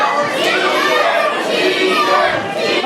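Wrestling crowd at the Barre Elks Lodge jeering Mike Skyros during an indie wrestling show, a loud, dense mix of shouts and boos that stays up for the whole stretch, with children's voices among the adults.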